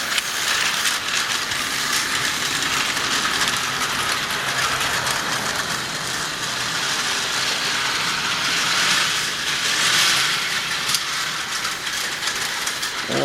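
A TOMY Plarail EF200 toy freight locomotive runs along plastic track, giving a steady close whirring motor hum with rattling clicks from the wheels and track joints, with no talking.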